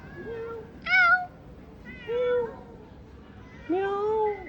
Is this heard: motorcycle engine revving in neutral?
no